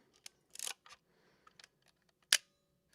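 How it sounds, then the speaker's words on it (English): A mirrorless rangefinder camera's quiet shutter clicks several times, soft and close, in scattered irregular bursts, with one sharper, louder click near the end and silence between. "You can hear the shutter is very quiet because there's no mirror in it"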